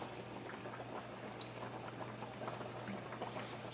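Flour-dipped chicken frying in hot oil, a steady dense crackling sizzle with faint low hum, continuous and close with no talk.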